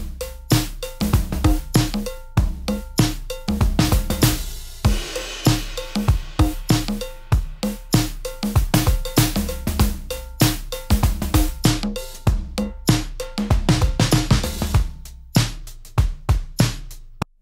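Punchy drum hits from the Klevgrand Fosfat drum synthesizer with hissy, noisy bursts from its noise layer in a busy, fast pattern, loud and close, with no voices.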